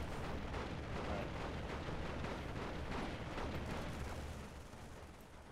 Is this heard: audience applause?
no